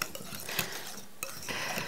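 Fresh cheese being stirred into a batter in a kitchen bowl, heard as quiet scraping and soft clinks of a utensil against the dish, steady and close, with no talk.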